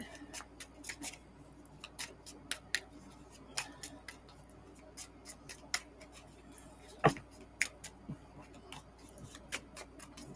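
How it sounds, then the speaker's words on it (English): Light, irregular flicks and soft riffling of tarot cards being shuffled, crisp clicks scattered over a quiet background with faint talk nearby. "I'm shuffling this card."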